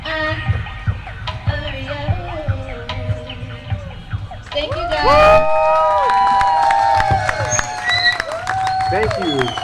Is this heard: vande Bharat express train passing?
no